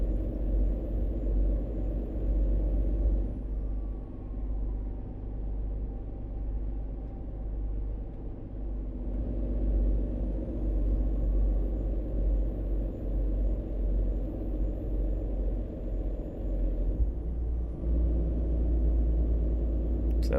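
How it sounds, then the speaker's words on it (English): A heavy-haul truck in American Truck Simulator rumbles along in a low, steady drone, its engine pitch shifting smoothly as it drops a gear with an automatic throttle blip, with no talking over it. "And it blipped the throttle and rev matched automatically."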